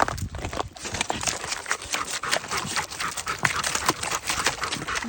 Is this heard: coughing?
no